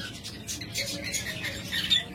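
Lovebirds squawk and chirp in a shop aviary, sharp bird calls overlapping at a moderate, slightly distant level with a steady rustling, chattering background.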